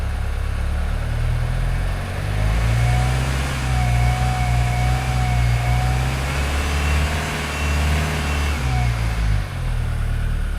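A diesel pickup truck engine runs steadily nearby, a low heavy rumble with mild revving swells and no talk over it.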